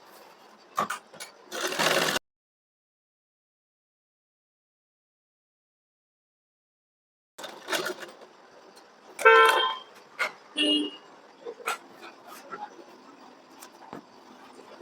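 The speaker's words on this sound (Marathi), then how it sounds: "याला आपल्याला आता ताप शिलाई मारून घ्यायची आहे" A sewing machine runs in short bursts while topstitching a puff blouse sleeve, close and fairly loud, with a long silent gap in the middle and clicks and handling noises around it.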